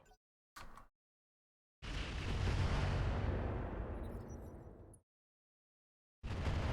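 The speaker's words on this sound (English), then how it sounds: "Firing a full salvo." A full missile salvo fired in the mech game Roguetech: two short pops, then a long roaring launch burst that swells and fades over about three seconds, followed by another burst starting at the end.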